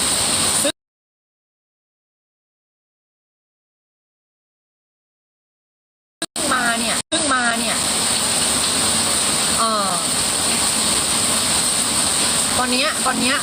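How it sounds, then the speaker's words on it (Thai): Heavy rain pours steadily during a flood in a Thai village, a loud continuous roar of water after a silent gap, with faint voices under it. "ตอนนี้ฝนตกแรงมาก"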